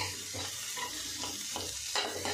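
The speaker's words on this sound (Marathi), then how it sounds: "याच्यामध्ये पात टाकून घेतलेली आहे मी आणि याला असं छान भाजून घेऊया।" Onion greens sauté in a pan for chutney, a continuous soft sizzle broken by several stirring scrapes at a steady pace, close up and without talk.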